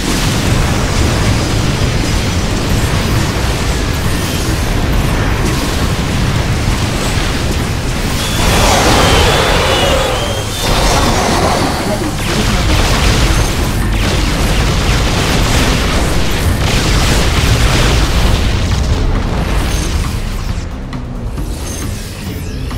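A Thrasher bombards a temple in StarCraft 2, producing a dense, continuous wall of loud booming explosions and rumbling impacts that barely lets up for over twenty seconds before easing slightly at the end.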